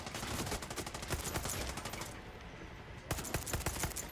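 Rapid bursts of automatic gunfire in the video game Far Cry 6, dense crackling shots with a brief pause before another volley, fairly quiet in the mix.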